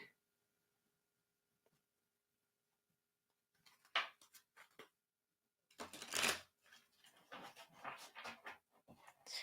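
Tarot cards side-shuffled by hand, heard as quiet bursts of riffling and flicking paper, first a brief one and then a longer, louder run near the end, with no talking.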